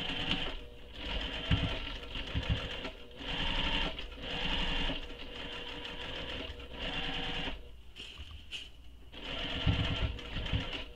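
Sewing machine top stitching along the back panel of a clutch bag, running in several close, loud bursts of rapid whirring with short pauses between runs.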